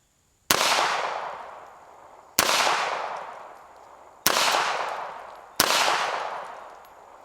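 Four sharp, loud gunshots from a Sig P230 pistol in .380 ACP, evenly spaced about two seconds apart, each followed by a long decaying echo as if fired outdoors.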